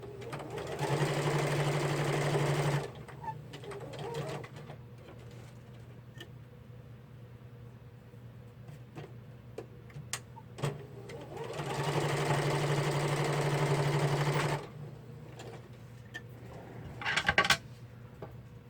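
A sewing machine stitches fabric in two steady whirring runs of about three seconds each, separated by quiet pauses with small handling clicks and taps, close and clear.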